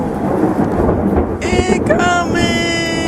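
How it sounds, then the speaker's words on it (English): A thunderstorm with deep, rolling thunder over steady, heavy rain, loud and close, with some brief tonal whines rising above the downpour partway through. "It's the storm coming."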